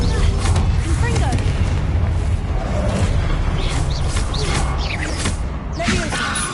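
Confringo fire spell blasts in the Hogwarts Legacy video game, heard as a dense run of booming, crackling impacts within a busy battle soundscape, with a voice speaking over it.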